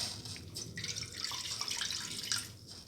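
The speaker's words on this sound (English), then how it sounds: "200 to 220 ml of water." Water, about 200 to 220 ml, pours into a pan of noodle ingredients, giving a steady close splashing, trickling rush that runs unbroken for a few seconds at a moderate level, with no voices.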